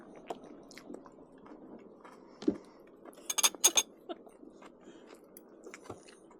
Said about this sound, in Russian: Надо жевать, Да, не глотать.